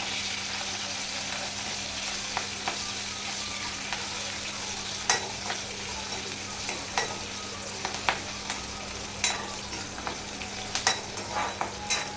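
Spices, including fenugreek seeds, crackle and sizzle in hot oil for tempering dal, with sharp, irregular pops, a steady hum underneath and no voices.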